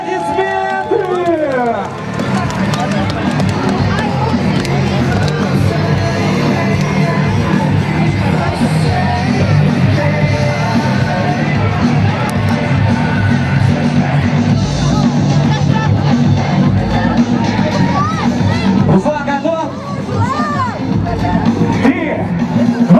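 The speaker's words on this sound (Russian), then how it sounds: "Итак, на старт к испытанию приглашается Азизов Руслан под ваши аплодисменты" A loud crowd at an outdoor strongman contest during a town-day festival cheers, shouts and whoops continuously, with an announcer's voice and yelling mixed into the dense hubbub.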